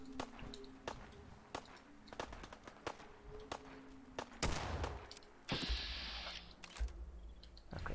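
Fallout 4 gunfire crackles in a string of sharp, irregular shots, some in quick bursts, spread across the scene with game ambience and a louder hissing blast near the end.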